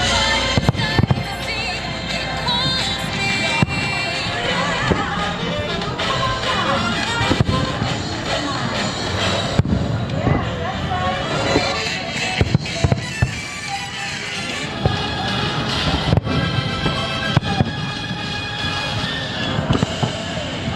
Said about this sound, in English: Fireworks are just about to begin.